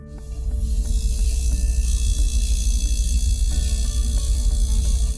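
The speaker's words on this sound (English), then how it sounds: "Another sound you might hear is the compressor." A steady low mechanical hum with a faint buzzing whine from the compressor of an LG washer-dryer combo, running continuously at a constant level with no voices.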